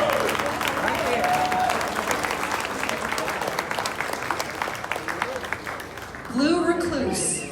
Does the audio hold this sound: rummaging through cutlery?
no